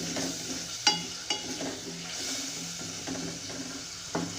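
Potatoes cooking in masala in a pan for aloo methi bhujia, giving a soft steady sizzle with a few sharp stirring scrapes and clinks, close and moderately quiet with no talking.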